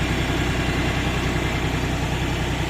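A New Holland T3.75B farm tractor's engine idles with a steady low rumble close by, even and unbroken, with a faint vibrating throb and no speech.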